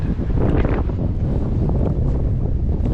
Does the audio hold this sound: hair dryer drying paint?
no